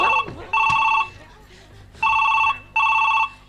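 A telephone rings loudly and close by in a repeated double-ring pattern, with a brief voice at the start, on loudspeaker during a gajon folk theatre performance.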